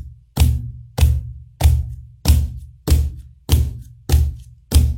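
Cajon struck with closed fingers, eight evenly spaced single hits with a dull, thin thump and quick decay, close and solo with silence between each stroke.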